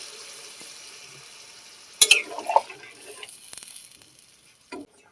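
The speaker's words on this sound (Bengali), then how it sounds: "এবারে জল দিয়ে দেবো।" A mustard-paste curry fries in a pan with a quiet, steady sizzle until water is poured in, bursting into a loud hiss and spluttering that gradually settles into a lighter simmer.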